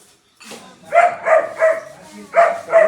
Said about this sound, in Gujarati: બીજા કૂતરાને જોઈ કે એટલે સિમ્બુ અત્યારે ભસે છે